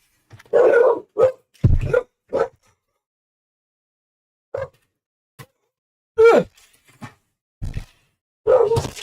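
A dog barks in short, loud bursts indoors, several sharp barks in uneven clusters separated by silent gaps.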